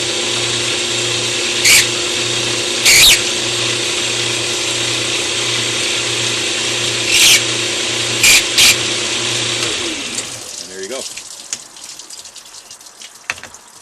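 A hobby stone, run wet with water, grinding a taper on a stone Decora rocker switch plate; a steady close whirring drone with a low hum and brief bright scraping bursts, until the grinding stops near the end and leaves faint clatter.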